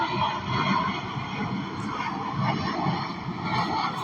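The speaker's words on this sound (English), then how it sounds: "Loud-ass planes." Loud airplanes passing overhead, a sustained broad rumbling roar that swells and fades slightly over several seconds, filling the background fairly loudly, with no speech.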